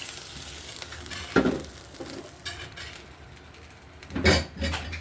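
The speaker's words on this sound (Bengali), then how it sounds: "এটা ঘুটে দিচ্ছি।" Coconut milk and hog plum chutney sizzles in a pan with oil while a spoon stirs it, scraping and clinking against the metal in two or three louder bursts over a steady fry.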